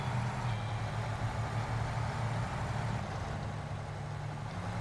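A scout truck in the off-road driving game Snowrunner gives a low, steady engine drone at a moderate distance, continuous and even throughout with no talk over it.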